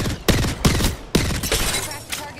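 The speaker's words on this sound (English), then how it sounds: "Opening fire on our prey." Rapid bursts of gunfire from an Apex Legends match, several loud volleys with sharp onsets and brief gaps between them, ringing close and harsh with no voices over them.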